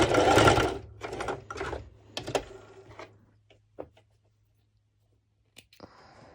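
A sewing machine runs a straight stitch across an underwire ruched bikini top in several short, rapid whirring bursts that grow briefer and sparser, ending with a few small clicks and handling noises.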